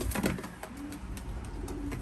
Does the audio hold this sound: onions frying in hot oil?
no